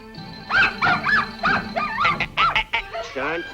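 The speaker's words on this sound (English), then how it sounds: "there's that dog again." A cartoon dog barks and yips in quick bursts from a Disney coyote short, with rapid, close, loud calls running for a few seconds.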